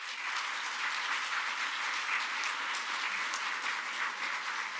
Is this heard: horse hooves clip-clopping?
no